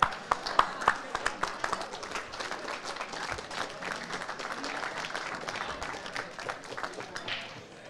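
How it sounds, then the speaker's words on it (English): Audience applauding the players at the final of a European pool championship in Newcastle, a sustained wash of clapping with a few sharp individual claps early on, steady and fairly close for the whole stretch. "Can we have a round of applause for both of the players"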